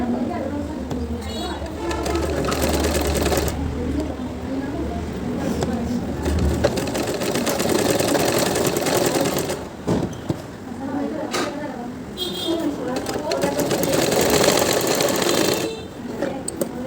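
An electric sewing machine stitches a neck piece onto a kameez in bursts of rapid mechanical whirring, running steadily through most of the stretch with short pauses, while people talk over it.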